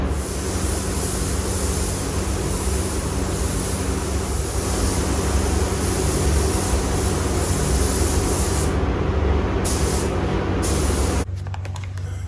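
Spray gun applying a second coat of gray paint to Harley-Davidson CVO motorcycle parts, a steady loud hiss running unbroken for about eleven seconds before cutting off.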